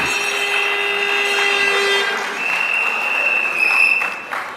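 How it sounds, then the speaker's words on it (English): Applause from a crowd at an outdoor political rally in Couva South, Trinidad, steady and fairly loud, with sustained horn-like tones sounding over it. "another round of applause for the Flaming Word Ministry."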